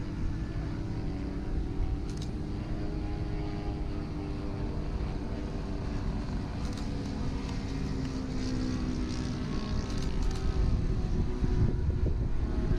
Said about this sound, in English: Beautiful wheel landing with the big old P-47.